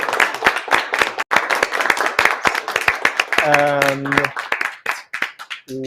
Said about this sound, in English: We can give ourselves a big applause for inspiring each other.